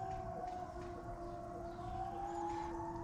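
A wailing siren holds a steady rising and falling tone for the whole stretch, fairly loud and continuous, with no voices over it.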